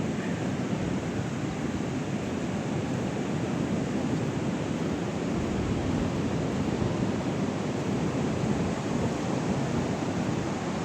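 Ocean surf at a San Francisco beach in the Sunset District, a steady loud wash of breaking waves blended with wind noise, with no voices over it.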